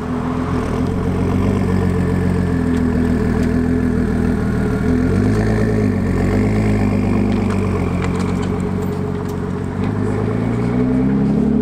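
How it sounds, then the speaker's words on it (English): A Ford Mustang engine idling up close with a loud, steady, deep rumble that never lets up, its low throb wavering slightly as the motor turns over, with no voices. "Charlie's pulled the Mustang back round, so we'll jump back in"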